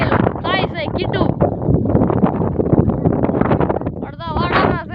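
White and black goats in a pen bleat in short wavering cries, a few near the start and a louder cluster at the end, while someone talks over them amid wind rumble.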